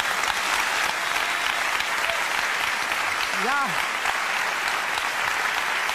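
Steady audience applause fills a German political cabaret studio, a broad even wash of clapping, and a brief spoken interjection cuts through near the middle.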